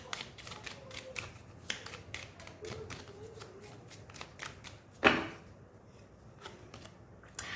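Tarot cards shuffled by hand in a steady, close run of papery riffles and flicks, with one sharper snap midway and no talk.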